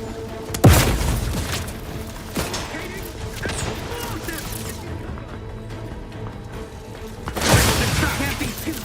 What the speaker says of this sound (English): I'm gonna try and throw a grenade down there, I think.